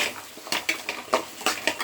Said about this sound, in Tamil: வெங்காயம் தக்காளியை நல்லா வதக்கிடலாம்.